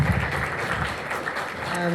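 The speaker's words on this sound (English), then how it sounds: "More clapping." Audience at a poetry reading event clapping, a short burst of steady applause at moderate volume that continues without a break.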